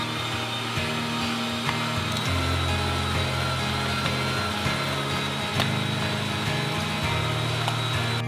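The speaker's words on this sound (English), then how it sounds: "Turn on the meat grinder and first grind the minced meat through a large mesh." Electric meat grinder forcing pork through a large-mesh plate, a steady droning motor hum with shifting low tones and occasional crunching, close and continuous with no talk.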